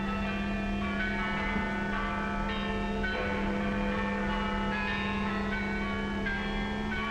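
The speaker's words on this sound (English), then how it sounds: "Now the bells rang out a song of thanksgiving," Church bells peal in a WWII-era British film, ringing a song of thanksgiving: a continuous, moderately loud stream of overlapping bell tones with new strikes every second or so, alone without speech.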